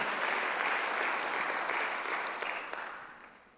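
A church congregation claps during a Sunday worship service, a continuous wash of many hands at moderate level that gradually fades out over a few seconds.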